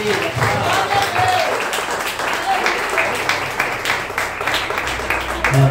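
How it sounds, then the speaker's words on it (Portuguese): Church congregation applauding during a Portuguese-language evening worship service, steady clapping throughout with some voices mixed in beneath it. "Aplauda o Senhor pela vida do servo."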